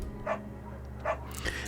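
A beagle barks in the Firewatch video game, three short yips spaced out over a low steady background hum, moderately close and alone.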